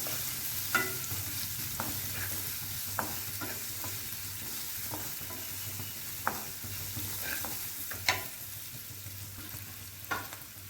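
Vegetables for carrot upma sautéing in a pan, a soft steady sizzle under occasional light spatula taps and scrapes, close but fairly quiet.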